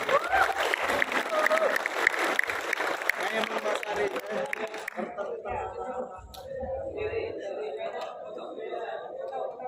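A seminar audience in a hall applauds and cheers a volunteer woman named Sari, clapping mixed with crowd chatter that thins out after a few seconds, with a voice talking over it.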